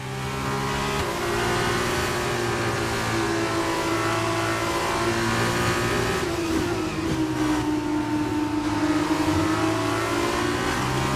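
Formula 2 race car engine in the F1 22 racing game at Sakhir, a loud steady high-pitched drone that dips as the driver brakes for a corner, then climbs again as the car accelerates out.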